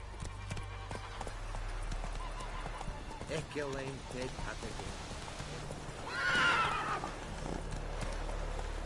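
Roach, the horse in The Witcher 3, gallops with a steady clip-clop of hooves and lets out two whinnies, the second louder and longer near the end, all over continuous game ambience.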